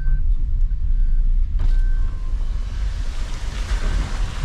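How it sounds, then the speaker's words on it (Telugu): A mini waterfall at a tea estate in Ooty, with rain falling, roars as a steady, loud broadband rush of water, mixed with wind buffeting, heard outdoors at fairly close range. "water falls bro, water falls"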